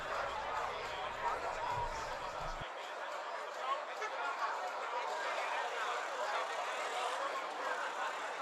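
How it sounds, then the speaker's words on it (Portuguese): Murmur of many people chatting outside a busy bar on a city street, heard from a car, a steady crowd babble with faint laughter over low road noise throughout. "Você está ouvindo as pessoas conversando?"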